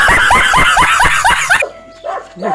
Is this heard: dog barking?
yes